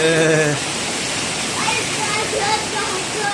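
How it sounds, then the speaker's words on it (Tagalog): Heavy typhoon rain from Typhoon Inday pours steadily in Baguio City, a dense, loud rushing wash of water that fills the scene, with a brief voice at the very start. "Lakas na ng ulan, no?"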